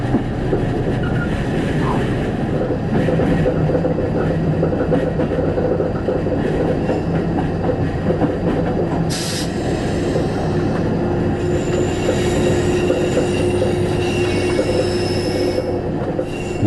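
An X-2215 diesel railcar runs on a French mountain line from Nice toward Tende, giving a loud, steady rumble with clattering wheels and a brief high squeal partway through.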